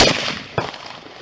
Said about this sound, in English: 14 DO1, we need EMS shots fired